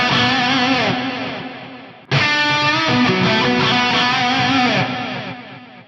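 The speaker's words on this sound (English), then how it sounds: "We'll hear delay into reverb, reverb into delay," A distorted electric guitar plays a sustained lead through delay and reverb, loud and dense, with one abrupt cut and restart partway and long echoing tails.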